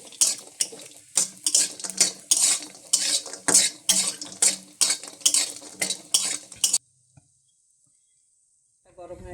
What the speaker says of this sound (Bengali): এখন অল্প তেল দিয়ে ডাল বড়িটা ভেজে নেব।